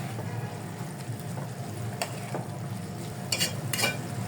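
Grated coconut being stirred into sweet vermicelli in a pan, a low steady sizzle with soft scraping passes and a few louder scrapes of the spoon toward the end.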